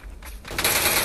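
Gunfire in a competitive video game match, a burst of shots cutting in sharply partway through and continuing as a loud, dense crackle to the end, with no talk over it.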